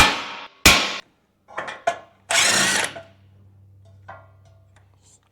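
A hammer taps a nut loose on the front end of a Toyota Hilux N70 during diff seal work: several sharp metallic knocks spaced irregularly, close and loud, with a faint low hum beneath.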